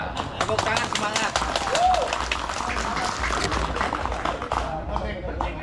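A crowd at a mosque groundbreaking ceremony claps in dense, rapid, continuous bursts, with voices mingled throughout the loud clapping.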